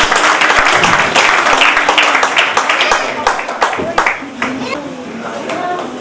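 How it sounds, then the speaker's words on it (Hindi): Audience applause at a campus gathering in Darbhanga, scattered claps that start fairly strong then thin into uneven individual hand claps, with voices talking over them. "कृपया तालियों से स्वागत करें"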